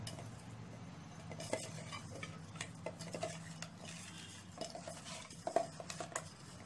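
Fish coated with turmeric powder and salt is stirred in a pan for a coconut-free fish curry, giving a steady run of soft scraping and light clinks of utensil on metal, with no talking.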